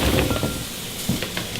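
Pork tenderloin browning in a hot pan gives a steady, close sizzle with faint crackles and a few soft pan knocks, no voices over it.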